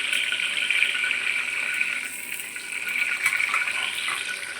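Cinnamon and cloves sizzle in hot oil with bay leaves, a steady, bright hiss filling the whole stretch without letup, close and fairly loud.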